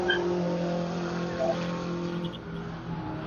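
A race car runs down the front straight at Buttonwillow Raceway on a hot lap, its engine a steady, continuous drone at moderate distance with no talk over it.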